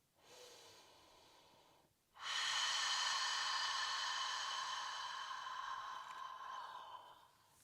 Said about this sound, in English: In and out. Long, deep breaths.